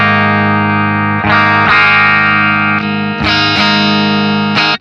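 Electric guitar through a Beam Mini amp on the St. James 6L6 clean model at default settings: sustained, bright chords ring out loud and close, restruck a few times with a slight effects sheen, then cut off abruptly.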